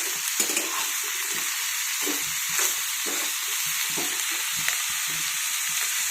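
Pumpkin pieces sauté in hot oil in a pan for a healthy low-oil steamed pumpkin dish, giving a steady bright sizzle with soft, irregular stirring scrapes underneath and no voices.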